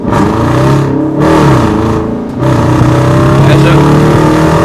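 Loud car engine fitted with a Roar Pedal throttle response controller revving up and down in bursts close by, the roar rising and falling and then holding a steady growl.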